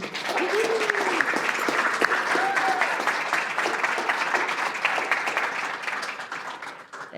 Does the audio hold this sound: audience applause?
yes